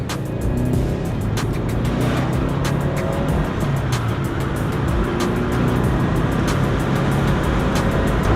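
A Subaru barn-find car drives on the road, heard from inside as a steady, loud engine and tire roar with light rhythmic ticks and rattles throughout, no speech.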